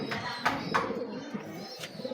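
Racing pigeons coo close by in a loft, giving several soft, throaty coos with faint background noise between them.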